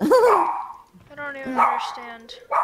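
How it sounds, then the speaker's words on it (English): A pet dog barks and whimpers indoors during a Minecraft Hypixel Skywars game session, with a few short yelps mixed in among players talking. "Sorry guys, that's my dog."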